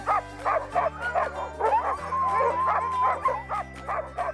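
A team of sled dogs barks and yips excitedly in a continuous, overlapping chorus of short, rhythmic calls, close and loud over a low engine-like drone, with occasional whimpers mixed in.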